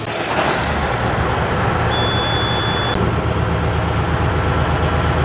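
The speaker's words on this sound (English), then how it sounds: "So we think he's got the Kenworth running right now." A Kenworth semi truck's engine idles in a steady, low diesel rumble, close and constant, with a brief high electronic tone partway through.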